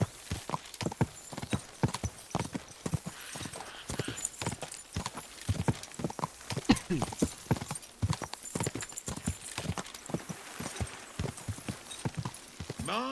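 Horse hooves clip-clop at a steady walking rhythm in the video game Kingdom Come Deliverance 2, close and continuous throughout, with faint background ambience.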